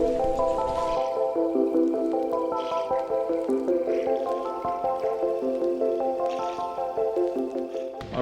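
A backpacking water filter is worked by hand on a Rocky Mountains hike, water trickling and dripping steadily into a container, with faint squishing pumps, fairly quiet and close, no voices.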